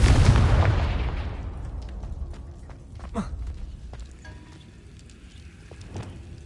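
A Confringo fire spell explosion in the video game Hogwarts Legacy: a loud, deep booming blast at the start that rolls off and fades over several seconds, followed by a brief whooshing streak and faint crackling debris.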